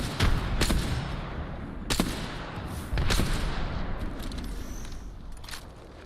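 Video game gunfire in a team shooter: several loud, sharp shots and bursts spaced across the clip over a continuous noisy battle backdrop, with no talk.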